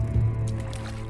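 Character wading across a river in the video game Drova, a short wet squishing slosh of water against legs, fairly close, over a steady droning game background.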